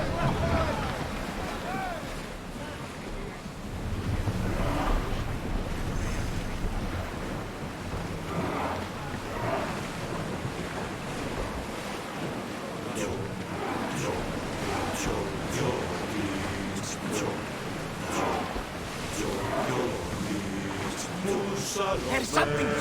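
A sailing ship crosses sea waves in the Assassin's Creed Odyssey video game, with a constant rush of surf and wind at steady volume, joined by indistinct voices.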